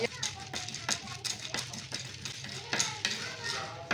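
Cumin seeds and urad dal dry roasting in a pan without oil for capsicum chutney, with a spoon scraping and stirring in repeated quick strokes over a faint steady crackle, fairly close and moderately quiet.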